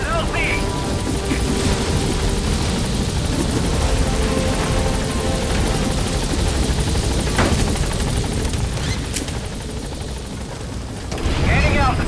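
A helicopter gaining altitude in Metal Gear Solid V, a steady, loud rotor and engine drone that holds throughout with slight swells.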